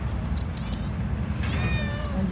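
A small cat on a sandy beach at low tide lets out a short meow near the end, close by, over constant wind and wave rumble, with faint rustling before it.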